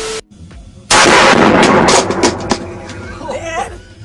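A powerful rifle fires once with a loud, sharp blast that rings and echoes for a couple of seconds, followed by scattered thuds and rustling.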